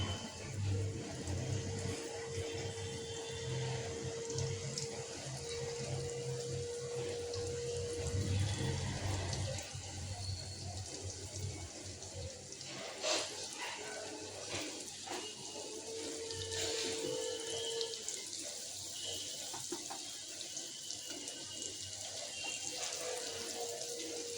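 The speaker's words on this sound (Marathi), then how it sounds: "तेल गरम झालंय, तर मी आता ही कापं घालून घेते याच्यामध्ये." Breadfruit slices frying in a few tablespoons of hot oil in a pan over medium-low gas, a continuous soft sizzle and crackle that carries steadily throughout with small pops.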